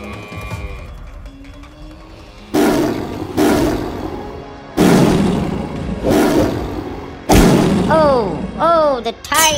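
Tiger roaring as it attacks a calf on a farm, several loud, close roars in bursts, with thuds and other animal cries between them.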